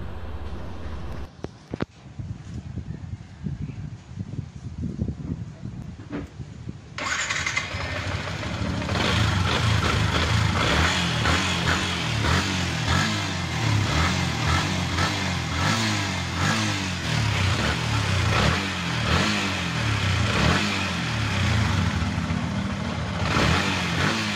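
A Yamaha Sniper V2 motorcycle engine, fresh from a wiring harness repair for an error 1 fault, starts after quiet key-turn clicks and settles into a steady, loud close-up idle that runs to the end.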